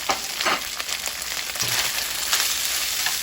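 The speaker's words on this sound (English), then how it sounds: "we're going to fry this rice maybe 3 to 4 minutes" Cooked rice fries in a hot pan for beef rice with hamburger, giving a steady, close sizzle with scattered scraping stir sounds throughout and no voices.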